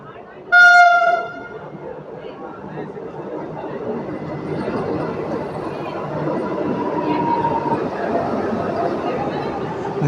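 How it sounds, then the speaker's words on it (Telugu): The Vande Bharat Express arrives at Nellore platform 3: a short loud horn blast opens, then a steady rising rumble of the approaching train fills the rest, with voices faint beneath. "అదిగోండి వందే భారత్ అనేది నెల్లూరు ప్లాట్ఫామ్ నెంబర్ 3కి 10 మినిట్స్ డిలేగా వస్తుంది"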